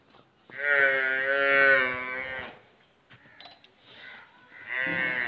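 A Nili-Ravi water buffalo at a sale in Pakistan gives a long, deep, nearby bellow, then quieter shuffling before a second low call begins at the end.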